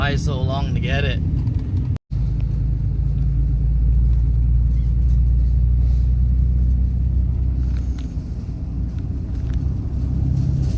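Steady, close rumble from inside a 1991 Honda Civic hatchback driving over a bumpy road, with a constant low engine and road drone, a brief cutout, and a voice talking near the start.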